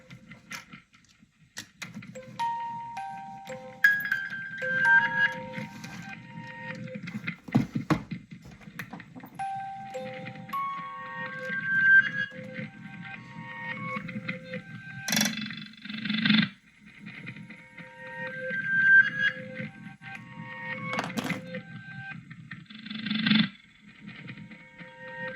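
A homemade piezo noisebox plays a punched-card loop through effects pedals, giving a steady repeating pattern of bell-like metallic tones over a buzzing drone, with brighter clicks and bursts recurring every few seconds, loud and continuous with no talking.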